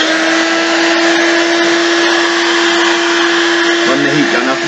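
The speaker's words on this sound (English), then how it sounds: "Run the heat gun up and down." Heat gun blowing steadily on a Transit van headlight, a loud continuous whirring hiss with a steady motor hum, running alone without pause for the whole stretch.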